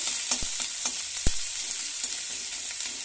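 Garlic paste fries in a pan with a loud, steady sizzle and a few soft clicks and knocks of a stirring spoon.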